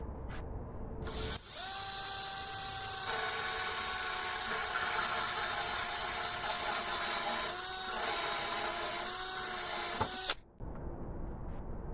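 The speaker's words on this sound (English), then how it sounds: "I've got my 1 inch hole saw bit on my drill" A power drill fitted with a 1 inch hole saw bit cuts through plywood, a steady loud whine with strong harmonics running about nine seconds before stopping abruptly, with no talking.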